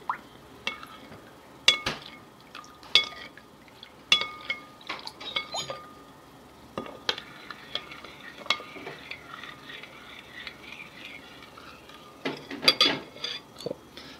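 Close-up stirring of gummy candy mixture in a pot: steady scraping and sloshing broken by frequent sharp clinks of a spoon against the metal, a busier cluster of knocks near the end.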